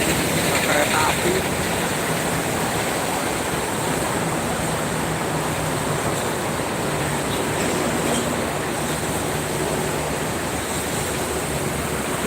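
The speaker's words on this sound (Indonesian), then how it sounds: "Kereta api." A train passes near the Jakarta–Cikampek toll road, a loud, continuous rushing roar that stays steady from start to finish.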